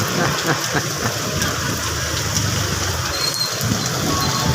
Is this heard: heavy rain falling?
yes